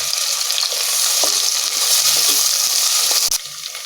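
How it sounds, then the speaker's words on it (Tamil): Onions frying in hot oil with cinnamon, cloves, bay leaf and cardamom for mutton biryani: a loud, steady sizzle with occasional soft stirring clicks and no talking. "வெங்காயம் சேர்த்து நல்லா வதக்கிக்கங்க"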